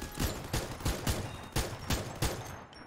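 Gunfire in the mobile shooter Free Fire Max: a run of about seven evenly spaced single shots, each a sharp crack, close and fairly loud over a faint steady background.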